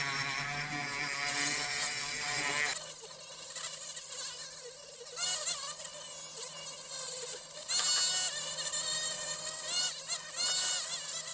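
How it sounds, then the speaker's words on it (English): A wire wheel strips paint from a die-cast Matchbox Mercury Cougar toy car, sped up into a continuous high whining buzz with shifting pitch and brief surges, steady and fairly close throughout. "we'll show the whole process of the wire wheel actioning, albeit"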